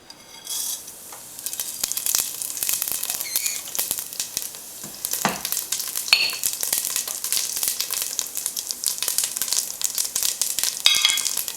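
Cumin seeds sizzling in hot olive oil, a steady bright crackle and spatter with occasional louder pops, close and continuous, no talking.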